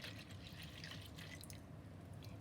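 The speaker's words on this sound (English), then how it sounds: "we are going to pour this 500 ml, that is half liter of milk," Milk, half a liter, poured into a blender, a steady close liquid pour with a splashy, bubbling gurgle that runs without a break for a couple of seconds.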